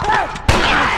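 A single sharp gunshot cracks in The Last of Us amid a subway brawl, loud and close, with a voice talking around it.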